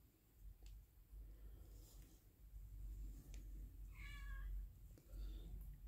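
A cat gives two faint meows, the first longer and wavering, the second short, over a steady low rumbling background.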